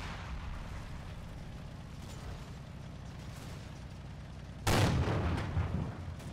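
In a tank combat video game, a single heavy cannon shot booms near the end, loud and close, and rumbles as it fades, over quiet engine and ambient noise.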